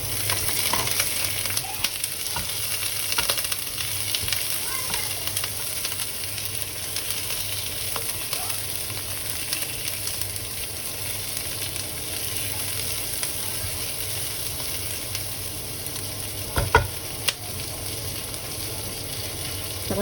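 Shrimp fries with vegetables in cooking oil in a pan: a continuous, fairly loud sizzle and crackle that holds steady throughout, with occasional faint stirring scrapes and one brief clatter near the end.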